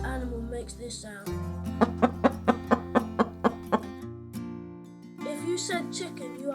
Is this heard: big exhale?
no